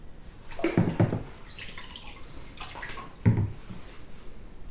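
A Rowenta X-pert 3.60 vacuum cleaner part dunked in vinegar water, two distinct sloshing splashes about two seconds apart with faint dripping between them, close and alone.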